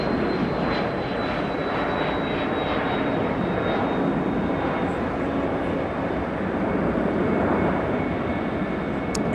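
Singapore Airlines Boeing 777 jet landing at Los Angeles, a loud steady roar of jet engines with a faint high whine, sustained throughout and heard from nearby outdoors, no talk over it.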